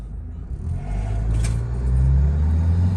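Turbocharged 1.9-litre 2020 automatic pickup with an aftermarket turbo accelerating hard with the pedal floored, giving a steady low engine drone that rises and strengthens over three seconds, heard from inside the cabin with no talking.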